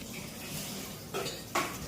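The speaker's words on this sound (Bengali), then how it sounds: "ওই প্লেটটা দাও এদিকে, ডালটা চাপা দিই।" Dishes clink twice as a plate is set over a pot of dal in a home kitchen, two sharp close ceramic knocks standing out from a quiet room.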